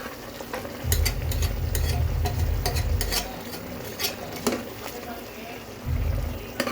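Masala is stirred into gongura chicken in a pressure cooker, giving a sizzle with scraping spoon strokes and clinks against the metal, plus low rumbling surges as the mixture is worked.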